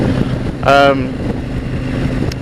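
A KTM motorcycle engine runs while riding, a steady low rumble mixed with wind buffeting, with a brief voice-like burst over it early on.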